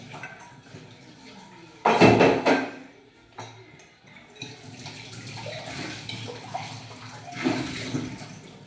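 Dishes being washed under running water in a home kitchen, with splashing bursts, clinking pots and a tap flowing close by, loud in places then settling into quieter rinsing.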